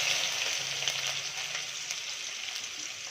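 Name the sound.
onion frying in pan for poha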